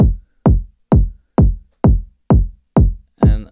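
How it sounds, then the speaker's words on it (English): A techno kick drum sampled from a Syntakt plays seven or eight times at a steady, even pulse. Each hit is punchy and booming, with a long ringing tail that fades out before the next one, loud and dry. "It's the kick drum. I've sampled it from the syntact."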